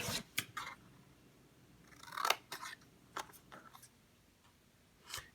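Scissors snip through stiff Bristol paper while cutting out a piece for a sketch model chair, giving several separate crisp cuts close up, with short pauses between them and no talking.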